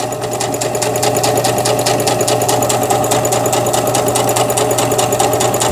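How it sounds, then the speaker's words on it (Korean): A repaired Singer 777D sewing machine stitches continuously at a fast, even rhythm, its needle ticking clearly and close up against a steady motor hum, with no talking. "이런 식으로 박음질 정상적으로 되고 있습니다"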